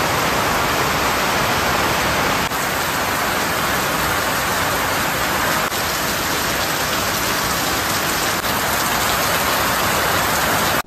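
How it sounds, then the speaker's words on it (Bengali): Heavy, pouring rain falls in a loud, unbroken roar of dense drops on surfaces, with no voices. "তার মধ্যেই শুরু হয়েছে মুষলধারে বৃষ্টি।"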